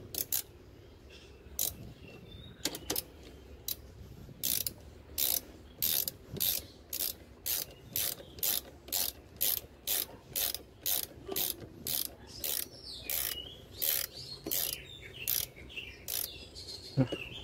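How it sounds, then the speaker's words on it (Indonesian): A ratchet wrench with a 14 mm socket tightens the locking bolt on a drill-mounted bench grinder adapter, producing a steady run of about twenty quick, sharp clicks in even rhythm, close and clear with no talk. "Di sini saya pakai kunci ratchet."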